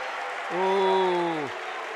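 Basketball crowd booing a blocking foul called against TCA, a loud sustained jeer swelling for about a second over steady background crowd noise in the gym.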